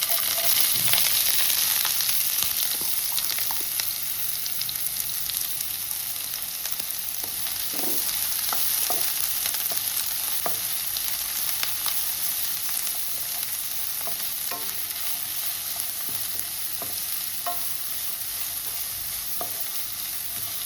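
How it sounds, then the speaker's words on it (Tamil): Sliced onions fry in hot oil for a chicken curry, giving a steady, fairly loud sizzle that holds for the whole stretch, with occasional soft stirring scrapes and no talking. "ஆயில் நல்லா ஹீட் ஆனதும் ஸ்லைஸ் பண்ணி வச்சுருக்க ஆனியன்"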